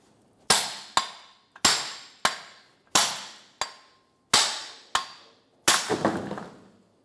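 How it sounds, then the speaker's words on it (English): A big hammer strikes the back of a 2012-2016 Subaru Impreza rear wheel bearing in a metallic knuckle, nine sharp ringing blows spaced unevenly, each decaying quickly, with no talk. "we are going to use a big hammer and hit the back of the bearing"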